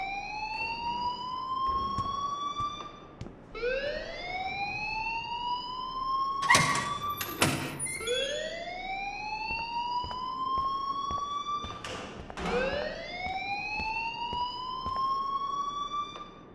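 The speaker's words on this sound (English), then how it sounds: "please turn off that alarm since that's your job" A rising, wailing electronic school alarm from the Life is Strange video game, sounding in repeated upward-sweeping cycles, loud and steady, with a few sharp clicks and knocks breaking in midway.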